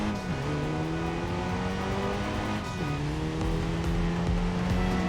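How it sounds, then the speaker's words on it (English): A sports car engine drones and revs continuously in the Racing Master video game, its pitch climbing and shifting through gears, loud and close, with no pauses. "First, I want to listen to the engine."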